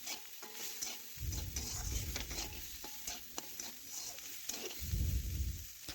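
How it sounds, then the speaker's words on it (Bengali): Spatula stirring cauliflower and potatoes frying with a pinch of red chili powder in a pan, a steady scraping churn with soft sizzle and two heavier low-end stirring bursts, close and fairly quiet, no voices. "এখন নাড়াচাড়া করে এটা মিশিয়ে নেব।"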